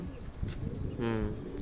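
Soft, low pigeon cooing comes through quietly and close by, with faint murmuring in the background.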